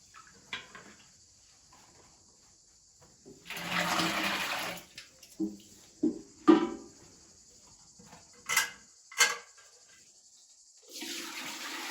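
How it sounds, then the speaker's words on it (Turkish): Water is poured over ice into a metal pail in a kitchen for making spicy ayran, with two splashing pours separated by quieter clinks and knocks of ice and metal. "Hemen sitile buzları atarız, üstüne su doldururuz."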